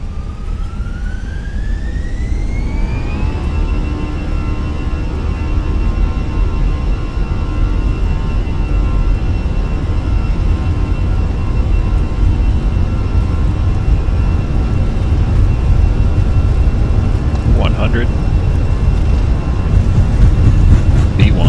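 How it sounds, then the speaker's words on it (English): Fenix A320 jet engines in Microsoft Flight Simulator spooling up to takeoff thrust, a rising whine that levels into a loud, steady roar with a broad rumble underneath, lasting throughout. "Okay, takeoff thrust is set."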